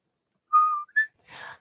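A person whistles a few short melodic phrases of the I Dream of Jeannie theme song, clear and close, with brief pauses between notes and a breathy puff at the end.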